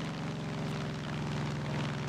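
Propeller airplane engine in the Far Cry 5 video game, a steady loud droning hum with a constant pitch, continuous throughout with no talking.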